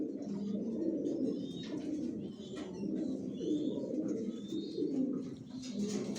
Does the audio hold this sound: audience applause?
no